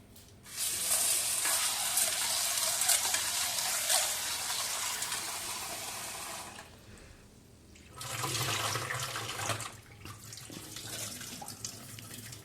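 Chana dal being washed by hand in a bowl of water, with steady splashing and sloshing that pauses briefly, then resumes with a fuller, lower swirl, close and alone without talk.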